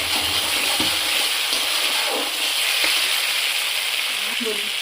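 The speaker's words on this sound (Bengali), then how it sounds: "মশলাটা ভাজা ভাজা হয়ে গেছে এবারে পেরা কাঁচা লঙ্কা দিচ্ছি" Green chillies go into ground spices frying in a pan for a mustard-poppy bata fish dish, producing a steady, close hissing sizzle throughout.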